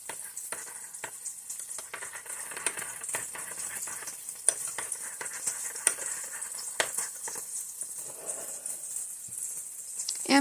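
A spoon stirs sweet and tangy hamburger sauce in a frying pan, with soft sizzling under repeated scraping and tapping strokes, fairly quiet and close, with no talking.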